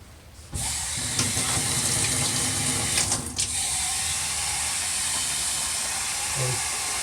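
Hot water runs from a tap into the tank of a Bissell Spot Clean Professional portable carpet cleaner, a steady hissing rush that starts abruptly and keeps flowing with little change, with a brief clatter partway through.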